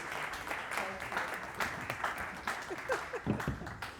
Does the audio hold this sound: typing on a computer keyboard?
no